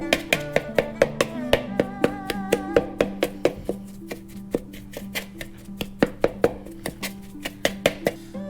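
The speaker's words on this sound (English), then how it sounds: "I'm just gonna give this a little choppy chop real quick" Knife chopping a potato mixture for crab croquettes on a board, a steady run of sharp close taps at a quick, slightly uneven rhythm, with a few faint clinks in the background.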